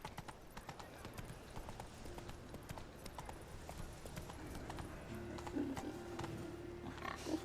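Galloping hooves of Roach, a horse in The Witcher 3: Wild Hunt, clip-clop in a steady rhythm under game music and ambience throughout, fairly close.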